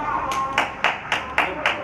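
Separate hand claps from an audience at a Tamil drama troupe event honoring R.T. Karupparaj, six or so distinct sharp claps spaced evenly apart, fairly close and loud, with no full applause building around them.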